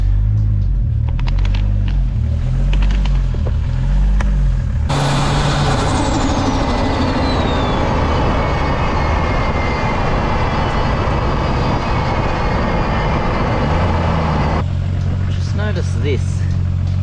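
Cabin sound from a Toyota Crown JZS171 with a 1JZ engine on the road, carrying a steady loud rumble and a speed-linked rotational noise from the front right, and a rising whine partway through as speed changes.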